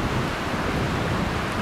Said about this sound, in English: Windy little spot at the moment.